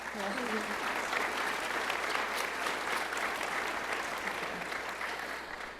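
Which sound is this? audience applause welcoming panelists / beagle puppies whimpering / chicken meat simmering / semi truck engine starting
audience applause welcoming panelists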